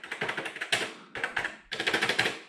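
Keys clatter in quick rhythmic bursts on a Commodore C64 computer keyboard, three close runs of rapid typing separated by short pauses, loud and clear with no voices.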